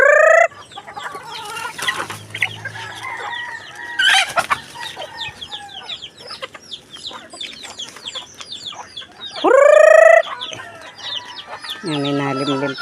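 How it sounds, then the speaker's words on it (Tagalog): Farm chickens cluck busily at close range while waiting to be fed, with a rooster crowing loudly near the start and again later, mixed with scattered bird calls and faint background voices. "Nag-aabang na ang mga manok."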